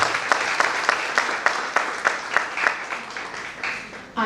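An auditorium audience at an AI conclave claps to welcome a speaker. The applause is steady and rhythmic, with a crisp beat of clapping over a dense wash, and it fades slightly toward the end.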